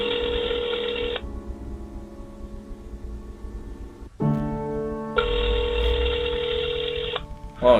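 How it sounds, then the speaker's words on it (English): Telephone keypad tones beep out over a speakerphone, two long steady tones with a short gap and a few brief presses between them, close and clear with no talking. "I'm going to put it on speaker. I'm actually dialing right now."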